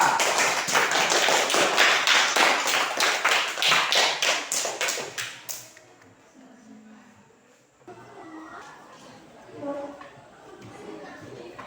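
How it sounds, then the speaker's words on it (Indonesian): Classroom applause for a student group's poster presentation: rhythmic, fairly loud unison clapping for about five seconds that stops abruptly, followed by quiet room sound and a teacher talking. "tepuk tangan untuk kelompok 2"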